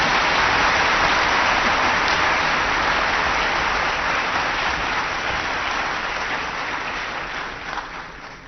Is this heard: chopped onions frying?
no